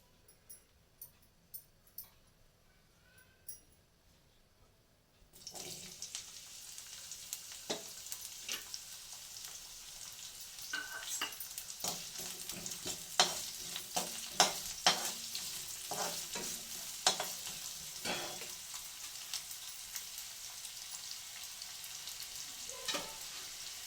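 Onions dropped into hot oil in a pan for green chilli chicken, sizzling loudly after a quiet start, with repeated scraping stirs and utensil knocks through the steady frying hiss.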